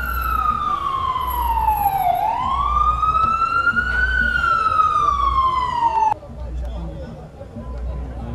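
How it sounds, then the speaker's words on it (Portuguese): A Unimed ambulance siren wails loudly and close at a football match, sliding down then rising in long sweeps before cutting off abruptly, while a voice talks over it. "E entra a ambulância da Unimed."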